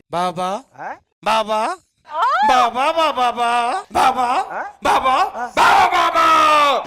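A voice mimics a dog barking in a comedy skit, repeating loud, rhythmic bark-like syllables in quick bursts, with rising strain toward the end.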